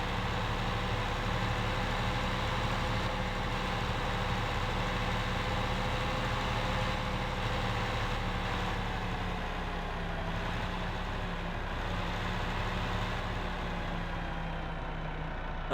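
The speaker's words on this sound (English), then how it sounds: "see how well that Lamborghini tractor is actually running the planter" A Lamborghini tractor in Farming Simulator 15 pulls a planter, its engine droning in a steady, loud, continuous low hum with a slight pitch drift and no talk.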